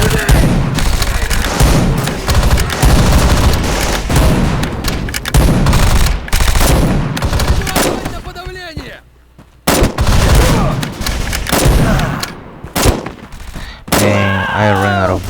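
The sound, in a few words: gunfire in Bullet Force video game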